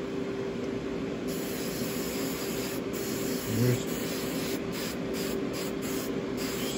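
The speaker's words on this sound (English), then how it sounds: "So now I just take some cheap hairspray." Cheap hairspray sprayed from an aerosol can onto the green clump of a ready-made model tree, a steady continuous hiss lasting several seconds, close and alone.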